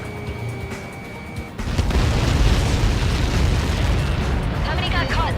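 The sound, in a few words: explosion in video game Ace Combat 7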